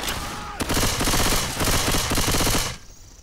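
Loud, rapid gunfire blasts from a shotgun in Left 4 Dead 2, a sustained close barrage lasting a couple of seconds before cutting off abruptly.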